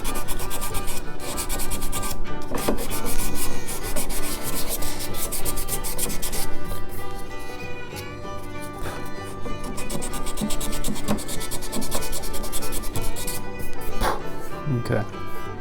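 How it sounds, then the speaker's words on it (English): A broken guitar headstock repair being sanded by hand, steady rasping strokes with sandpaper running continuously and up close, with short pauses and a few light knocks. "So I'll just sand until they're gone."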